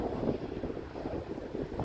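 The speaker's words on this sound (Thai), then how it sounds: "ลมเย็นสบาย" Seaside wind at the beach near Saint-Cyprien blows steadily across the microphone, producing a continuous low buffeting rumble with no voices.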